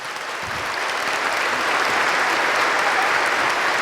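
A church congregation applauds, a dense wash of clapping that swells and holds steady at full volume for a few seconds.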